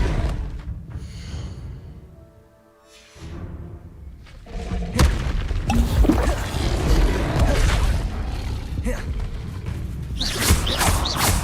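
Confringo explosive spell in Hogwarts Legacy, heard after a quieter stretch as a series of loud booming blasts and thuds mixed with crackling game effects that persist to the end.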